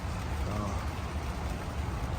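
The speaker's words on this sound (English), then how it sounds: "a rainy day." Steady rain falls outdoors at a brick restoration site on an old building, a constant soft hiss with no breaks.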